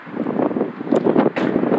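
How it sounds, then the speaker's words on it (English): Wind buffeting a phone microphone outdoors, a steady broadband roar with gusty surges that swell louder toward the end, no voices. "Man, it's windy out here"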